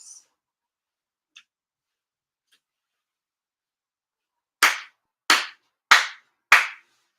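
Four deliberate, evenly spaced hand claps ring out sharply in a quiet room at a Japanese year-end ceremony, following a few faint ticks, with silence between each clap.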